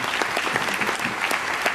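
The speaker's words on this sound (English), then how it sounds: "Stand up and give them a round of applause" Applause from the audience at a cruise question-and-answer session, a dense, loud, continuous burst of many people clapping together, close and sustained throughout.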